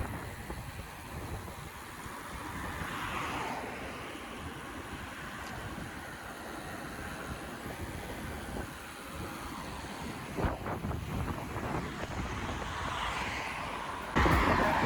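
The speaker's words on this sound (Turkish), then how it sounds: "Deli dehşet rüzgar var." Strong wind buffets the microphone during a bicycle ride in Istanbul, a constant rumbling roar, with gusts swelling louder near the end.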